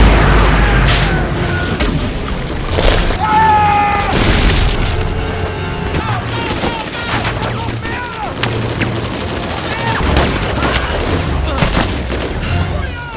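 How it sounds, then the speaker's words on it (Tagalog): A grenade explodes in a war film battle against German Empire troops, with deep booming blasts and gunfire-like cracks layered over a loud, dense action soundtrack for several seconds. "nagpasya si Trevor Broom na ihagis ang isang granada sa hukbong kaaway."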